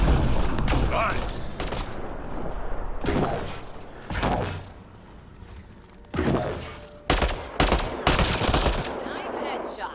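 Video game gunfire comes in loud bursts of rapid automatic shots and heavy thuds, separated by short pauses, with voices talking over the combat.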